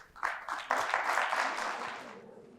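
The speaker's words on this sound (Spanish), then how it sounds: "Fuerte el aplauso al Señor Jesús." A church congregation claps for Jesus during a Spanish-language healing and deliverance service, a short muffled burst of applause that swells quickly and then fades.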